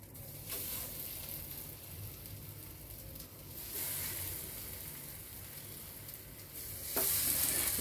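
Pineapple slices shallow-frying in a little oil make a soft, steady sizzle, with a few brief stirring bursts and the sizzle rising louder near the end, no talking.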